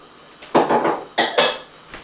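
A wok of bacon, onions and garlic fried together over high heat, with two short bursts of metallic clattering and scraping against the pan, separated by a quiet pause.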